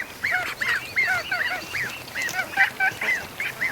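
A flock of ducks on the water, giving repeated nasal honking quacks in a rapid, overlapping series at moderate distance, steady throughout with no talk.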